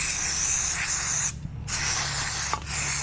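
Continuous hissing spray of degreasing cleaner onto a car gearbox that has been lifted out, a steady close jet broken by two short pauses, with no talking.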